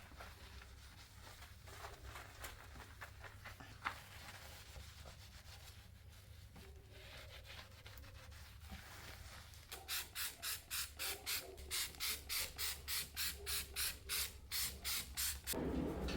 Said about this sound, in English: So I try to scrub a little bit.